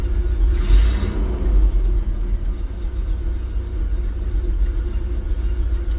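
A car engine idles with a low, steady rumble, swelling briefly as the gas pedal is pressed and then settling back; the idle may be hunting or misfiring.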